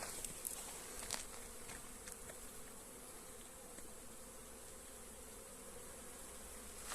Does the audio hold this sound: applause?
no